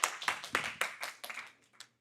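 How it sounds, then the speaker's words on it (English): A small workshop audience claps at a Palestine community organizing session, a brief scattered burst of hand claps that thins out and fades within two seconds. "can we give a round of applause?"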